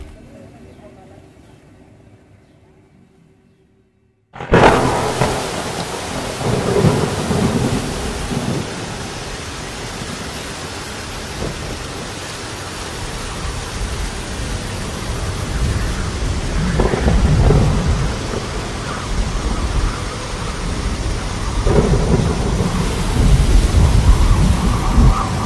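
Heavy rain bursts in suddenly and roars steadily at a river mouth near Karanggantungan beach, with low thunder rumbling through the downpour and growing louder toward the end.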